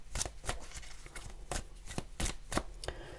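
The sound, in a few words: tarot cards being shuffled and drawn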